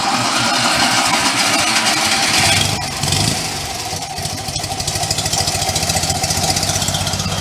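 A Fiat 126p Maluch engine running through a high-performance exhaust, a loud close idle with a brief dip midway before settling into a lumpy, pulsing burble.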